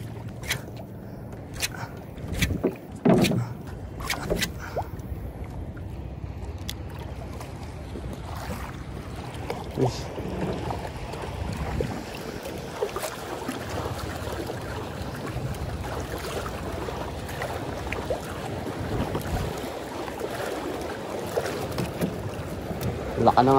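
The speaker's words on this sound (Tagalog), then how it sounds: "Laka ng alon mga master." A small fishing boat rocks in rough, choppy sea, with a steady wash of strong waves and gusting wind rumbling against the microphone throughout, broken by occasional sharper splashes and knocks.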